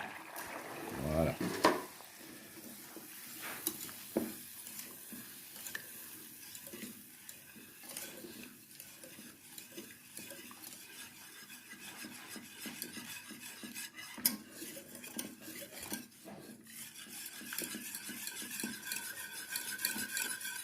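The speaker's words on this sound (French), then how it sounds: "une fois que le beurre est fondu, on y incorpore le chocolat" A spoon stirs chocolate into freshly melted butter in a pan, soft scraping and clinking strokes repeating over a faint sizzle, with a brief louder knock near the start and occasional talk in the background.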